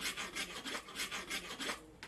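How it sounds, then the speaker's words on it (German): A wooden rasp is rubbed back and forth over the grips of circus juggling clubs, making a steady rhythmic scraping with about eight close, even strokes and no voices. "nehme ich so einen Holzschleifer und schleife die Griffe."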